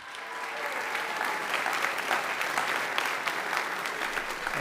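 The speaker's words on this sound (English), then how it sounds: "Great work, Goshen. Round of applause," A room full of people applauds at a college athletics awards ceremony, steady dense clapping that holds at an even, fairly loud level throughout with a few sharper individual claps standing out.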